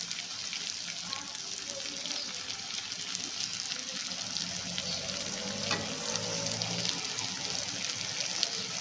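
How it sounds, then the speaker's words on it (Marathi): Stuffed okra (bharli bhindi) frying in hot oil and being stirred: a continuous close sizzle and crackle with scraping and mixing sounds throughout, steady and fairly loud. "तर आपण ही भरलेली भेंडी आहे त्याच्यामध्ये मिक्स करून घेऊ."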